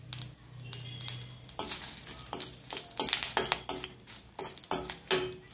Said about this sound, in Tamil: எண்ணெய் காஞ்சதும் ஃபர்ஸ்ட் காஞ்ச மிளகாயை போட்டு வறுத்து எடுத்துக்கலாம்.